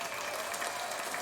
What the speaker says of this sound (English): So we'll give a round of applause to ourselves here.